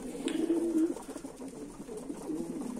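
Homing pigeons coo in a loft, with one clear rolling coo near the start and a softer one later over a faint murmur of birds.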